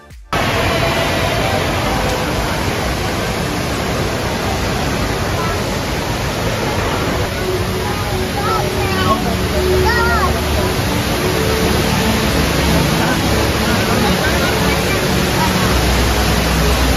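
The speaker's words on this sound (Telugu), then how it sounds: "ఇక్కడ మేమందరం ఈ పెద్ద వాటర్ ఫాల్ ఎంజాయ్ చేస్తుంటే" Large indoor waterfall inside Changi Airport, Singapore, a steady loud broadband rush of falling water filling the whole stretch, with faint crowd chatter and indistinct voices mixed into the wash.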